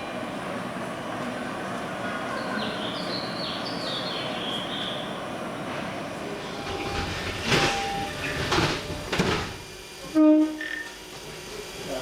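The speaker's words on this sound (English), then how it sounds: "That new train is departing." A 1960s Seattle Center Monorail train hums steadily with a low rumble, then a few louder mechanical whooshes and a brief beep as it starts moving away.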